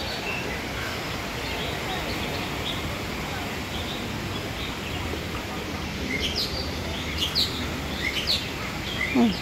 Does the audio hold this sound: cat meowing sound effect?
no